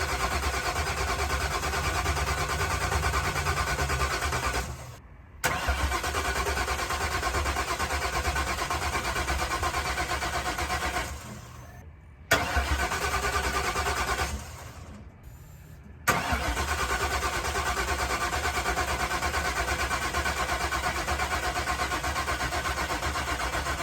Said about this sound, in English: This thing was extremely cold-blooded and really didn't want to start